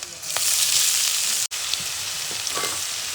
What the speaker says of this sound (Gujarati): હવે આપણે એમાં નાખી દઈએ જીરું હવે આપણે એમાં નાખી દઈએ મરચાં હવે આપણે એમાં નાખી દઈએ થોડીક ડુંગળી